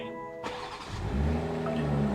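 Audi R8 engine starting at an auction walk-around: a sharp starter crank, then the engine catches and settles into a loud, steady, deep idle rumble, close by with no talk.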